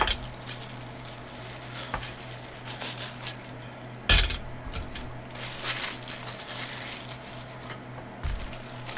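A new set of forks and spoons, dinner and salad forks with big and little spoons, handled up close: light scattered clinks and taps, with one sharper metallic clatter midway.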